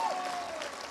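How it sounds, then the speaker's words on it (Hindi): Audience applause at a success speech event in Varanasi, a steady wash of clapping from a crowd that holds for the whole short moment. "और जोरदार और जोरदार और जोरदार और जोरदार तालियां होनी चाहिए।"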